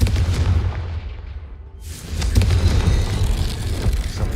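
A Confringo blasting curse in Hogwarts Legacy bursts with a loud, deep booming explosion that fades briefly and is followed by a second heavy rumbling blast, both close and full.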